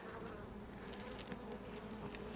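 Honey bees buzz at the entrance of a two-box hive in mild spring weather, carrying pollen, a faint steady hum of many insects up close with no voices.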